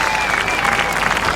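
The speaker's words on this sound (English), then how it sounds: "the crowd applauds that here at Derby" Spectators applaud at a women's T20 cricket match between England and India in Derby under floodlights, a steady wash of clapping filling the ground throughout.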